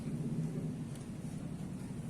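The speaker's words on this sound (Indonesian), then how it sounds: "di tempat saya hujan gerimis sedikit" Thunder rumbles low and steady through a light drizzle, a continuous soft wash of distant storm noise with no other sounds on top.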